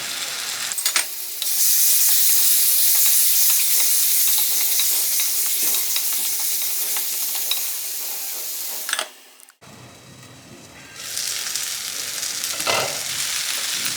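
Ginger garlic paste fries in a pan of hot oil for a meal maker gongura pulao, a loud steady sizzle with stirring scrapes that briefly drops away, then returns more softly.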